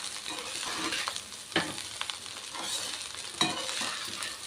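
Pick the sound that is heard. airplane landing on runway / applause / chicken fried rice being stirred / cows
chicken fried rice being stirred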